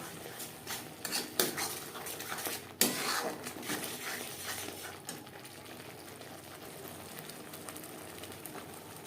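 Tangra fish is mixed with salt, turmeric and spices in a pot, with clattering utensil scrapes and clinks that are busiest at first, then fade to quieter, sparse stirring.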